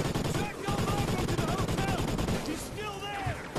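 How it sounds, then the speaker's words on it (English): Light machine gun fire in the video game Call of Duty: Ghosts, dense continuous bursts of rapid shots in a parking garage, with harmonic game tones and a voice talking over the top throughout. "you want to grab this light machine gun, it'll make it a lot easier for this parking garage area"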